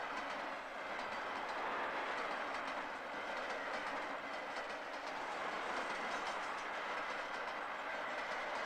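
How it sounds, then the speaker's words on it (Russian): Passing train with a steady rumble and rhythmic clickety-clack of wheels on rails, continuous and fairly distant, with no voices over it. "Слышишь, кажется, поезд."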